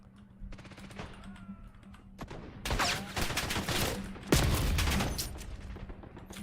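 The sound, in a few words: gunshots fired in a video game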